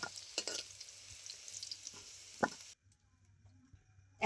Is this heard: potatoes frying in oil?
yes